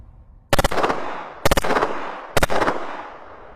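A Beretta 93R machine pistol fires three rapid automatic bursts about a second apart, each loud sharp volley of several shots followed by a ringing echo that fades before the next, with no talking.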